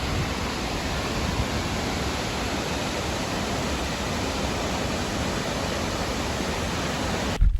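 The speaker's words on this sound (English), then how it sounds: "you can all probably already hear the waterfalls right behind me" Burney Falls waterfall in the Lassen National Park area pours in a steady, dense roar of rushing water that holds at an even level throughout, with no voices above it.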